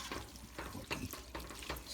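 Mac and cheese mixture with milk being stirred in a pan, faint rhythmic scraping strokes repeating roughly every half second against a soft sizzle.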